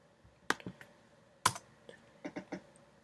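Keys are pressed on a Mac computer keyboard, giving a few quiet, close plastic taps, with two sharper strikes followed by a quick cluster of lighter clicks.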